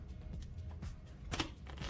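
Trading cards shuffled during a tabletop Pokémon TCG match, a soft papery riffling with brief crisp bursts over low room noise, fairly close and fairly quiet.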